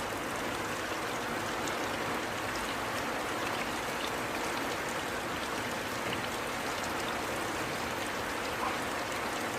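Steady, dense rainfall patters evenly on a roof, a constant wash of drops with no pauses and no voices.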